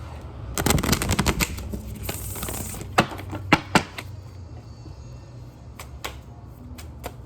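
A deck of cards is shuffled in a quick riffle of rapid flutters, then a few sharp taps and clacks as the cards are squared up. It is close and fairly quiet, with no talking.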